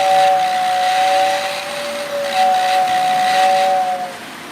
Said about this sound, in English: we got Amtrak running. Lakeshore Limited.